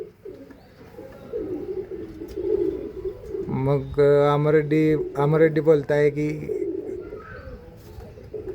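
Bred pigeons coo in a rhythmic run of throaty, wavering calls, close by, with someone talking before and over the cooing.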